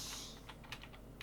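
Rapid keystrokes on a computer keyboard, a short burst of several close, crisp clicks heard alone against a steady background hiss.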